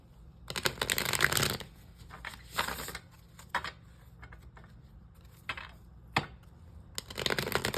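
Tarot cards are shuffled in repeated quick riffling bursts, close up and fairly quiet, with brief pauses between shuffles and no talking.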